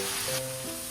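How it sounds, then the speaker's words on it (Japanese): Lotus root frying in sesame oil over medium heat gives a steady, close sizzle with a soft hiss throughout one brief moment. "ごま油でレンコンを中火で焼いて炒めたら調味料を"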